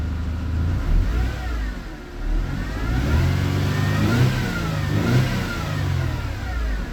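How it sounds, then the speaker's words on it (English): A supercharged 1.8-litre engine in a 2004 Mercedes C230 W203 revving from idle, with several rising and falling throttle blips, close and fairly loud over a steady mechanical hum. "I'll rev up the engine,"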